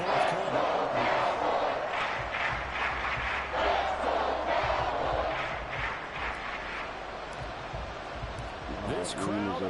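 A football stadium crowd roars steadily through a fourth-quarter comeback after a tying extra point, a dense loud wash of cheering that eases slightly toward the end, with a commentator talking over it.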